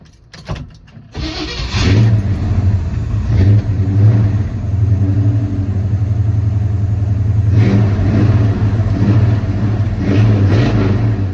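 A truck engine cranks and catches, then settles into a loud, steady idle with a deep rumble, surging briefly with a couple of revs.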